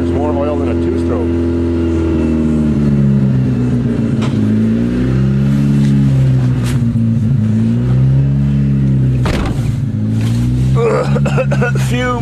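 The engine of a 1990 Honda Civic with a sticking throttle revs up and down in repeated rising and falling sweeps, close and loud inside the car, while people talk over it.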